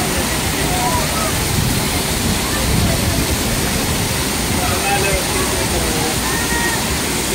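Water rushes and churns loudly and continuously at a water park, a steady broadband roar throughout with voices faintly mixed in.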